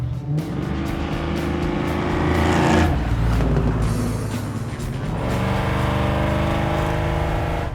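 A 1971 Chevrolet El Camino's V8 engine roars close by, revving up and down as it accelerates, loud and throaty with a rough low rumble.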